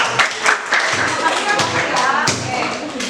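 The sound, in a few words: classroom applause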